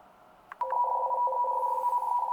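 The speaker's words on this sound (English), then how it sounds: "Here's my little beacon signal at the bottom of the band." A steady electronic radio beacon tone on the 30-meter band hums continuously after a couple of brief clicks, a clear sustained beep-like signal at moderate volume with no voices.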